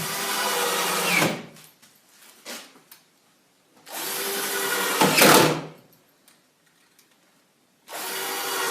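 Power screwdriver driving screws into a wooden beehive body, three loud whirring bursts of several seconds each separated by quiet pauses, close and alone.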